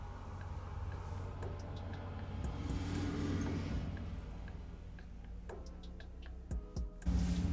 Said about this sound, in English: Sorry if you can hear like trucks and stuff going by my window.